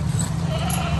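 A goat bleats close by on a livestock farm, a short wavering cry over steady low background noise.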